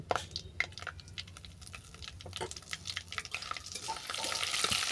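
Asafoetida frying in hot oil for a spice tempering, cooked into a vegetarian bottle-gourd greens chorchori; a close, steady crackling sizzle with scraping stirs that grows a little louder toward the end.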